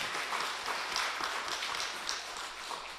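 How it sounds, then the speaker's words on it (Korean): A church congregation claps steadily at a moderate distance, a soft continuous patter of applause without any voices. "우리 박수로 한번 축복해 주시면 좋을 것 같습니다"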